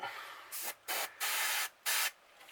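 Short bursts of hissing spray from an airbrush set to high pressure, four or five pulses of pressurized air and paint onto a crankbait fishing lure, separated by brief pauses, close and fairly loud with no talking.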